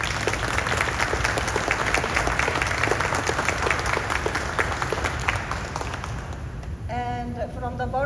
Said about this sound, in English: if you give a round of applause to all these officers and to Balpreet Singh Randhawa.